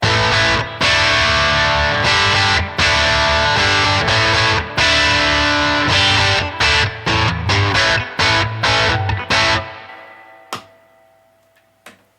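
A distorted electric guitar with humbuckers switched to parallel plays chords, heavy and loud, with choppy strums and short breaks before ringing out and fading near the end.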